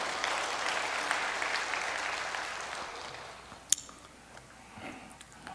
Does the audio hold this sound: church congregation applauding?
yes